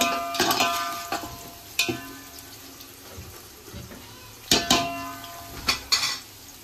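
Onions cooking in a pot for mutton biryani, stirred with a utensil that clanks and scrapes against the metal in several sharp bursts over a soft steady background, with no talking.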